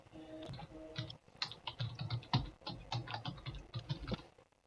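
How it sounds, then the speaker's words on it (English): Rapid, uneven clatter of typing on a computer keyboard in a room, the keystrokes close and fairly clear, continuing in short bursts with brief pauses and no talking over them. "I'm typing all this out here so we can put a scoreboard up on the screen."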